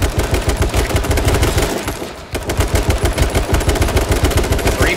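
Rapid automatic gunfire in the H1Z1 battle royale game, dense bursts of loud shots rattling almost continuously, with one brief lull in the middle before the firing resumes.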